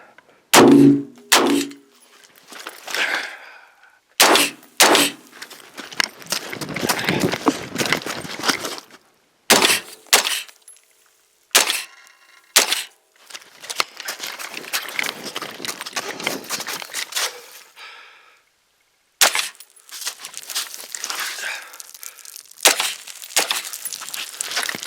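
Pistol fitted with a scout scope being fired through a short-range speed course, sharp gunshots in quick bursts separated by pauses and movement noise, loud and close.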